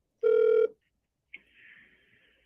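A phone call tone, with one short electronic ring tone followed by a pause and then a thin, hissy line sound rising again at the end, clean and quiet with no talk.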